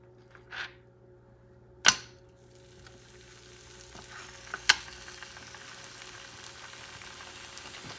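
Flanken-cut beef ribs hit a hot pan with a few drops of extra virgin olive oil over high heat, giving a faint, steady sizzle broken by a couple of sharp clatters near the start.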